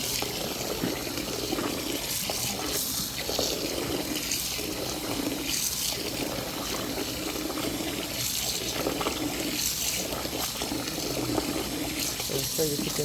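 Water runs and splashes steadily into a bowl of soaking beans being washed to remove their skins, a continuous faint rushing sound with indistinct voices under it.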